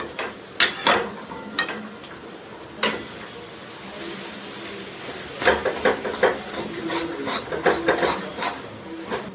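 Fish and mashed boiled potato mixture being stirred hard in a pan, a run of scraping, rasping strokes and spatula knocks, some sharp and close, with irregular pauses between bursts.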